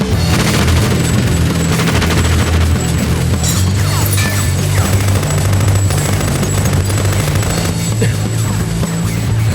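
Dense, loud stretch of gunfire and booming explosions from a Tekken 4 cutscene, continuous rattling shots layered over heavy rumble without speech.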